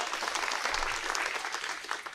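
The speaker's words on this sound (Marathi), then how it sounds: "त्या दोघांच्यासाठी पण जोरदार टाळ्या वाजवाव्या" Applause from a crowd at a council swearing-in ceremony for the two deputy council president nominees, a dense steady clapping that fills the whole short stretch.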